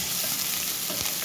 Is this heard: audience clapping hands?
no